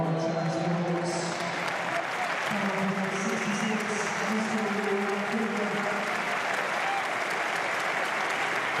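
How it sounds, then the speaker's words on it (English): Football crowd at a Championship match between Watford and Oxford United applauds a substituted player leaving the pitch, a steady, dense wash of clapping from a large stadium audience that holds throughout, with a faint broadcast commentary voice underneath. "Applause for number 66, Iran Kunda, who goes off"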